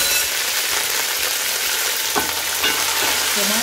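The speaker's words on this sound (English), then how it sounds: "In the oil, I'll fry my garlic and ginger paste." Garlic and ginger paste fries in hot oil while cooking an African-style turkey wing and potato hot pot, a steady bright sizzle with a few stirring scrapes near the end.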